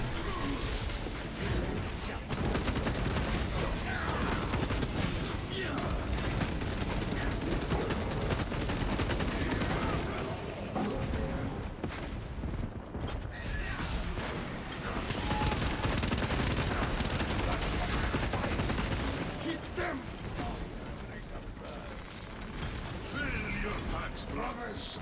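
Continuous video game gunfire with dense bursts and mechanical clatter that runs for most of the stretch, loud and layered, with talk heard over it.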